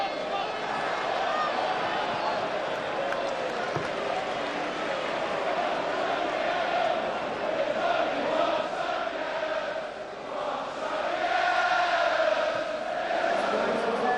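Capacity stadium crowd of about 38,000 at an Arsenal vs Celtic friendly in 2002, a steady, far-off roar and murmur with swells of noise, running continuously under commentary.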